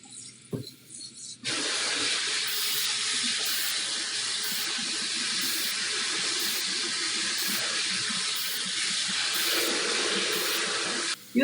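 Water runs hard and steadily from a kitchen tap into a sink while dishes are washed at home, a loud continuous gush that starts after a brief clatter and carries on to the end.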